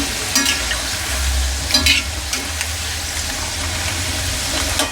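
Masala peanuts fry in a hot pan while being stirred, giving a loud, continuous sizzle broken by scraping stirs and occasional crisp rattles.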